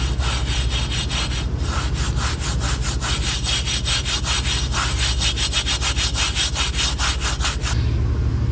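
An abrasive pad scrubs rust off a Volkswagen GTI Mk6 wheel rim during a brake job, making steady rhythmic back-and-forth rasping strokes, loud and close, that stop just before the end.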